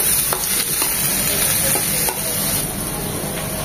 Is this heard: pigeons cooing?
no